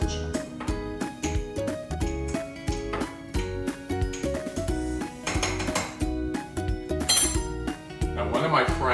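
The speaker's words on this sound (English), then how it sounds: "I'm gonna stir it some more." A spoon stirs hot chocolate in a cup, making repeated light clinks against the sides over steady, rhythmic background music.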